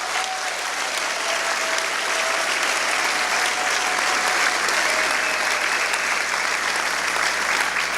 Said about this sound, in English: Please join me in applauding these climate leaders.